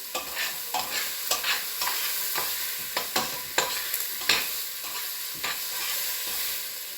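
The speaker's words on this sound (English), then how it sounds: "Constantly stirring so nothing burns" Repeated scraping and clacking of a utensil stirring a one-pot chili of meat and vegetables, with a soft sizzle underneath; irregular strokes, close and moderately loud, no talking.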